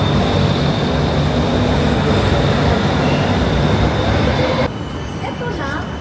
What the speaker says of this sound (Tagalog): Yan, tumakbo na yung train namin last.